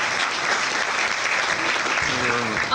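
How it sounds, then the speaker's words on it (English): Audience applause at a wrestling press conference in Los Angeles, steady crowd clapping throughout with a brief voice emerging near the end. "Give them a round of applause."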